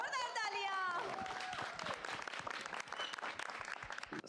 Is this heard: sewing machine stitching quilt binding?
no